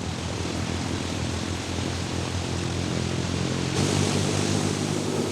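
An aircraft engine runs on the ground during a test of a new magneto, a loud, steady propeller roar with broadband rush that swells slightly near the end.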